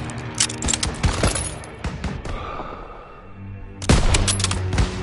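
Bursts of rifle and machine-gun fire in a Call of Duty WW2 campaign battle, sharp cracking volleys in clusters, a lull, then another loud flurry.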